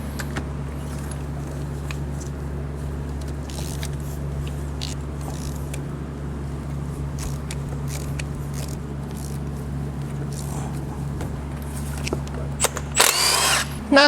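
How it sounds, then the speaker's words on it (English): Spark plugs come out of a Lexus V8 engine with a power tool, a low steady motor drone with scattered clicks and metallic ticks, then a sharp burst of rattling and clatter near the end. "Let's get our spark plugs out."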